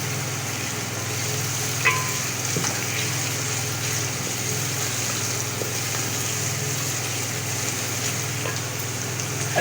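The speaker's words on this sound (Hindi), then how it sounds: "ये प्याज को मैं ज़रा थोड़ी नरम कर लूँगी" Onions soften in a pan for keema matar, producing a constant, even sizzle that runs uninterrupted without talk.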